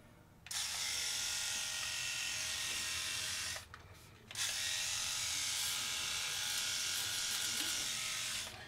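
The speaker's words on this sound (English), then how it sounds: "So here goes the live shave." A Philips Norelco Shaver 9400 electric shaver buzzes close and steady during a shave, with a brief dip in the middle before the high, even whine resumes.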